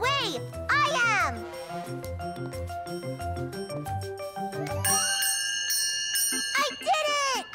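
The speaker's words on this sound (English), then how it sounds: "I'm going to ring the bell first." A bell rings out in a cartoon, with bright jingling tones and repeated dings over cheerful background music and children's voices, with kids talking throughout.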